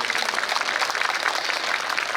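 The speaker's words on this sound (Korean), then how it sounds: "그런 의미에서 한번 크게 박수 한번 주시고" A crowd applauds at a Korean lawmaker's 2020 legislative report talk show, giving a moderate, sustained patter of clapping that stays fairly even throughout, with no voices on top.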